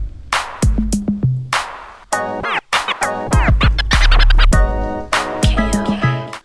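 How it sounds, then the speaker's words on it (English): A DJ runs a scratch pattern on a turntable, a loud, close sequence of rapid zipping, pitch-swooping scratches broken by short pauses, with no talk over it. "Now let's move on to the fourth scratch pattern."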